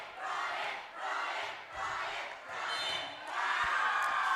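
Spectators at a high school volleyball match between Bear Lake and Rich cheer as an injured player gets back up, the crowd noise rising and falling in rhythmic swells of clapping and shouting.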